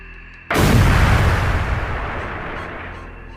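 A single shotgun blast erupts suddenly and close, a loud booming report whose rumble and echo decay slowly over the following seconds.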